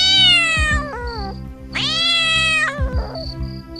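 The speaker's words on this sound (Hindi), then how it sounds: "वो बिल्ली तो रोज ही आती है" Up close, a cat lets out two long, loud, wavering meows, the second rising higher and drawn out, with a low steady hum running underneath.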